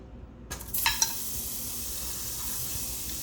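Half a tablespoon of butter hitting a hot pan, a sudden burst of sizzling with a couple of sharp spatters that settles into a steady, even hiss.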